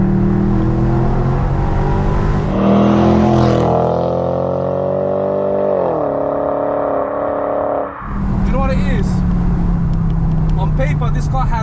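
Car with a traction light and a weak gearbox pulling hard in sport mode, its engine note climbing through rising revs, a brief dip near eight seconds like a gear change, then pulling on loud and close.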